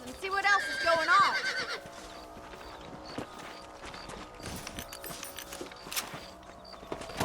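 A horse in the Red Dead Redemption video game whinnies once, loud and close, at the start, followed by soft hoof clops and game ambience.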